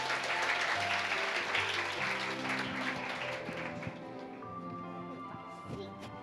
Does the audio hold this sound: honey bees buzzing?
no